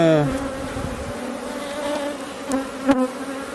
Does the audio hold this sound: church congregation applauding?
no